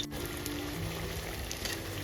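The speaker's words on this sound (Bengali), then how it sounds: "এক পিঠ ভাজা হয়ে গেছে অপর পিঠ এখানে আমি উল্টে দিলাম" Bitter gourd slices fry crisp in a pan of oil, giving a soft steady sizzle and bubbling throughout, fairly faint, with no one speaking.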